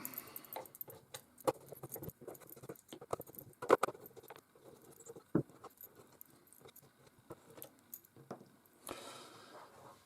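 Six screws are being removed from the back of a Bush DAB-1507BT DAB radio, giving scattered close clicks, ticks and small metallic rattles in an irregular rhythm, with no voice.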